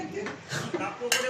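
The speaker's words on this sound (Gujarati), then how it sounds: "સેજલ ભાણા કાઢે છે." Dishes clink briefly as food from a pressure cooker is served onto plates for a meal in a village home, with a few light clatters under a murmur of voices.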